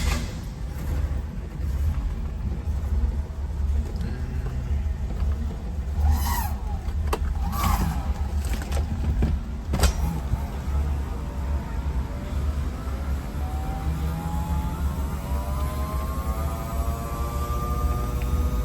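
A 1966 Buick LeSabre convertible idles steadily with a low engine hum while its power top lowers, a brief whirring motor and a few clunks partway through, then the engine carries on alone.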